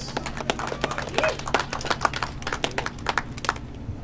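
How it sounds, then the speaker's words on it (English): Scattered outdoor claps from a small crowd honoring the overall champion at a cross-country race awards ceremony, sparse and irregular with low background murmur. "A round of applause."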